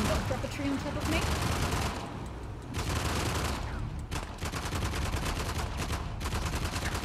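Video game gunfire from Uncharted: The Lost Legacy crackles in rapid bursts and scattered shots, moderately loud and dense, with bits of in-game voices mixed underneath.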